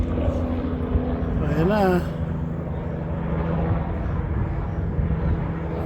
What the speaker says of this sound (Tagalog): Private chopper.